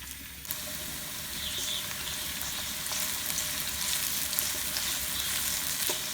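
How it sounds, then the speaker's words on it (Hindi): Spring onions fry in a pan for a cauliflower curry, giving a steady, close sizzle that lasts throughout with no talking. "पत्तों वाली प्याज डाल देते हैं। हल्का सा फ्राई करते हैं 1 से 2 मिनट तक।"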